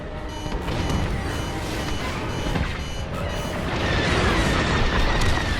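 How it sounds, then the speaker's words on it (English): A ship's core detonates in the Star Wars Squadrons space combat game, a loud, sustained roaring explosion with deep booming rumble that swells and grows brighter toward the end, with no talk over it. "Don't be nearby when that core blows"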